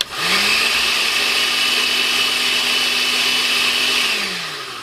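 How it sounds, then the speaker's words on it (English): A kitchen blender whirs as it mixes one cup of boiling water with gelatin for homemade marble Velveeta. The motor spins up, holds a loud, steady whine for about four seconds and then winds down, with no talking. "So in my blender I have 1 cup of boiling water."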